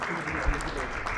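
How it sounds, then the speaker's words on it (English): An audience at a corporate governance panel applauds a panelist, with dense, steady clapping filling the whole short stretch. "Please have a huge round of applause for him"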